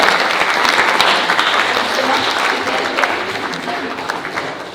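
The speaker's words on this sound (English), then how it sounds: "Give them a round of applause." A live audience at a community show breaks into loud, sustained applause, a thick, continuous roar of clapping that fades slightly toward the end, with faint voices mixed in.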